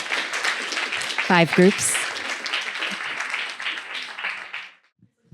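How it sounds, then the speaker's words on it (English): Audience applause at a university symposium of oral presentations, a moderate round of clapping heard under a speaker's voice that fades out and ends in near silence. "Let's have a big round of applause for these 3 groups."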